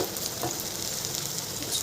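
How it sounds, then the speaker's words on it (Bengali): Steady sizzling of food frying in a pan, a constant crackling hiss with a few soft stirring scrapes and no voices. "বাকি আছে আরেকটু ভাজা ভাজা করি তারপরে নামিয়ে নেবো"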